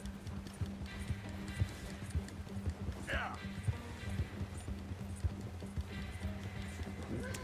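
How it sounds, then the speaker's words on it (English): A horse gallops in Red Dead Redemption 2, its hooves clip-clopping in a quick steady rhythm at moderate volume, with a low drone and a brief vocal sound along the way. "I wish my horse was faster."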